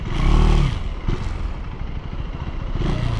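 A KTM 390 motorcycle pulls away at low RPM as the throttle opens, a close throbbing engine note that swells, dips, then rises again, with some clatter and no talk.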